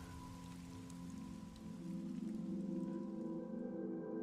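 Steady rain patters on surfaces in a scene from the video game Life is Strange, a continuous wash of drops under a low tonal background that swells slightly midway.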